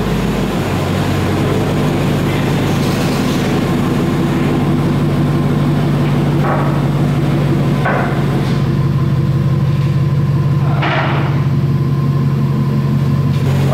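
Steady, loud low rumble of a Volkswagen Jetta TSI Stage 2 engine fitted with a downpipe exhaust, a constant drone holding throughout with a few brief mid-range crackles over it.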